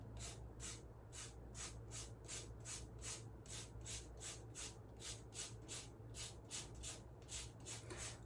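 Citrus peel being zested on a fine grater for carrot cake, a soft rhythmic rasping of regular strokes repeating steadily, close and quiet, with no talking.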